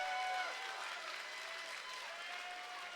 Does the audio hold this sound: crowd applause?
yes